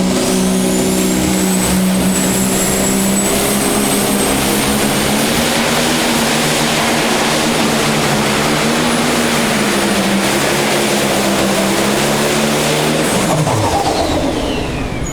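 A Pro Stock pulling tractor engine roars loudly and continuously at a tractor pull, its pitch climbing and holding under strain, then dropping sharply near the end.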